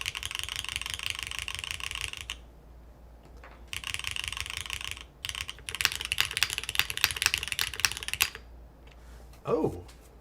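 Bursts of close, crisp clacking from an NEO75 mechanical keyboard fitted with a gasket and foam, typed in quick runs separated by short quiet pauses.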